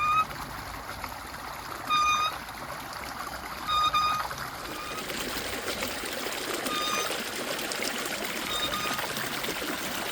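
Water from a natural pool drains out through an outflow into a brook, a steady broad rush and trickle running throughout, with a few brief tonal chirps early on.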